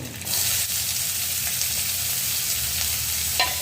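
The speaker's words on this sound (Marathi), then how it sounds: "आता मी घेते यामध्ये कांदा परतून" Chopped onion sautés in a pan for a tempered leftover rice breakfast, a loud, continuous close sizzle with a couple of faint stirring knocks.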